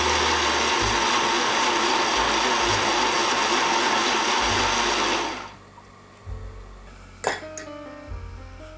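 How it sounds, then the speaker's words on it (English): A blender runs on medium speed through strawberries for about five seconds, a loud, dense whir that cuts off abruptly, followed by a few clinks and knocks of the jar. "Blend on medium speed for about 15 seconds"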